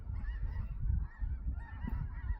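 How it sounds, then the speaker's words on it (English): Geese honking repeatedly as they fly in overhead above farmland, a steady overlapping chorus of calls, fairly loud and continuous with no talking. "We got some geese flying in."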